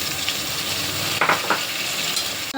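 Masala with tomatoes fries in a pan for an egg biryani, a constant close hiss of sizzling oil with a few brief stirring scrapes partway through.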